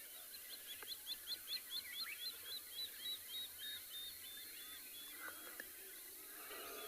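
Cormorant chicks in their nests at a South African wildlife reserve give a rapid series of faint, high, pleading whining calls over low gurgling and soft outdoor ambience, with no talking.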